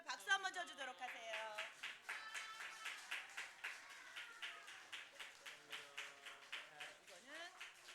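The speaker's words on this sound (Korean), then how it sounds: "우리 친구들 박수 한번 쳐주도록 하세요" Children at a primary-school church service clap together in a lively, fairly quick rhythm, the claps close and steady, with a bright harmonic tone ringing over them throughout.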